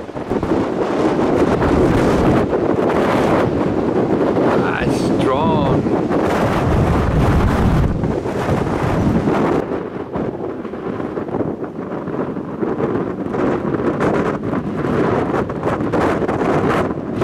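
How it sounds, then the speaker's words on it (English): Strong wind roars and buffets the microphone for the whole stretch, loud and gusty, on a 4x4 trail near Vioolsdrift, South Africa, with a brief muffled voice partway through. "And when it's windy, it's really windy. Wind is very strong."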